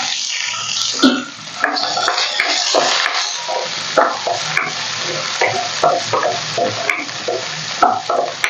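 About twenty small shallots sizzle and crackle in hot oil while being stirred, for an eggplant kuzhambu, with scraping and popping bursts throughout at moderate volume.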